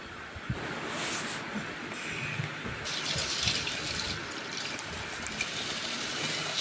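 Soaked mixed lentils rinsed in clean water, a soft running, sloshing wash with gentle splashes and a brief gush partway, quiet and close without voices.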